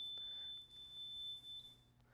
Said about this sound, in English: that is now ringing out our fire alarm panel